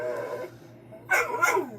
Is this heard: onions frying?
no